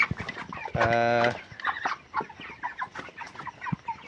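Thirty-two-day-old broiler chickens on a poultry farm cluck and murmur steadily, with one loud drawn-out squawk rising above the flock near the start.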